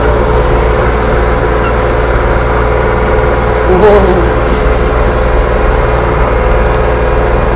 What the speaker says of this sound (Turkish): traktör de ısınmadı